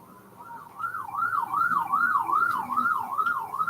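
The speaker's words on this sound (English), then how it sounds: "hella sirens" An emergency vehicle siren wails in a rising and falling yelp pattern, growing louder as it approaches along a street, with no talking over it.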